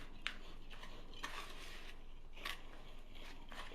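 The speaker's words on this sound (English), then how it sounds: "Then we're going to whisk it again." A whisk scrapes and clinks through hot cocoa mix with half a cup of dark chocolate chips, in faint, evenly spaced strokes about once a second over a soft background hiss.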